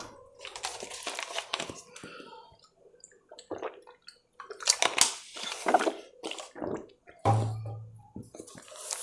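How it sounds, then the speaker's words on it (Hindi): A teacher drinks water during a class, with crinkling of a bottle, sloshing and gulping sounds in short irregular bursts close to the microphone. "मैं थोड़ा पानी पी लेता हूँ।"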